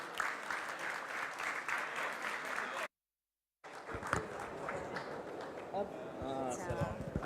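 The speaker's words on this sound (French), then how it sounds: "Vous pouvez les applaudir bien fort." Audience applause at a VivaTech startup stage talk, a dense steady clapping from a crowd that cuts out briefly and resumes, with voices mixed in near the end.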